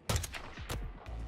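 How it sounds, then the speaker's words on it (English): Fireworks going off in the video game Hitman 3, a quick string of sharp bursts and pops at moderate loudness, followed by a lower rumbling tail. "That's fireworks, huh?"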